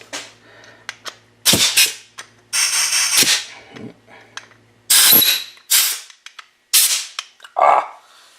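Compressed air blasts out Arctic Cat 500 parts in loud, sharp hissing bursts of varying length, with short gaps between them and brief sounds in the pauses.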